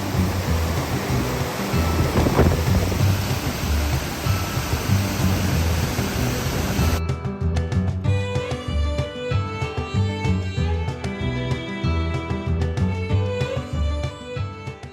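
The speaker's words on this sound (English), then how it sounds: "we saw a cool waterfall along the side of the road" Roadside waterfall in Iceland, a loud, steady wash of falling water for about seven seconds, then giving way to music.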